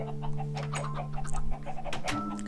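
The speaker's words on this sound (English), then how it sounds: "I'm gonna be raising chickens like crazy now" Chickens clucking in a Minecraft-style block game, several soft bird calls close by over a steady tonal background hum, with no talk.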